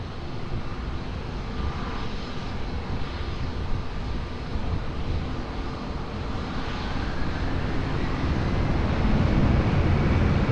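A jet airliner takes off from Lisbon Airport, a broad continuous engine roar that builds steadily louder toward the end, with a rumbling low end and a rising whine, heard alone without talk.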